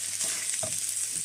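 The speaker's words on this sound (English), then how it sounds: "So I'm going to stir fry this for about 2 minutes on medium heat." Rice stir-fried in a pan over medium heat gives a steady soft sizzle, with a few quiet scrapes of stirring close by.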